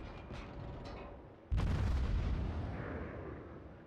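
USS Chester's main guns fire in World of Warships: a few distant thuds give way to one loud booming salvo that rolls out and slowly fades.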